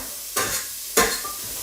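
Onions for a lamb shank dish sizzle in a pan over a high hob, a constant hiss broken by two sharp bursts of scraping as the pan is stirred.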